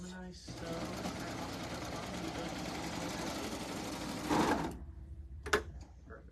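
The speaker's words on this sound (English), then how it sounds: "So I'm going to turn my corner and I'm going to serge all the way off." A serger running steadily for about four seconds as it sews off the corner of a quilt's binding, a loud, close mechanical whir that speeds up briefly before stopping, followed by a few faint clicks and handling noises.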